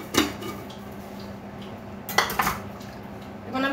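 A metal spoon clinks and scrapes against a cup while tea and sugar go in, a few close taps at the start and a cluster of clinks near the end, with quiet room hum between and no talking.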